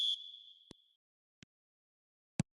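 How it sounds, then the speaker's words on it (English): Referee's whistle in the eFootball 2026 football video game at Old Trafford, a single shrill blast at the start with a lingering ring, followed by a few sparse short knocks and thuds, with no talk. "There's the whistle."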